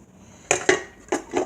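A metal pot holding a turkey leg set down on a stove and covered with its lid, four crisp metallic clanks spaced apart, close and clear with no talk.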